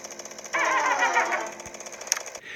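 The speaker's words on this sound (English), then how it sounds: "let's start up his chainsaw" A chainsaw revs up in the Troll Face Quest Horror video game, a loud buzzing burst that runs for about two seconds and then cuts out.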